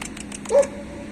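A single short, sharp bark or yip from a dog at a private dog kennel with Kangal, Pitbull and Belgian Shepherd breeds, brief and fairly close over low background noise.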